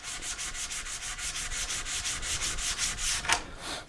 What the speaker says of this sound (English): But we're going to get that sanded down.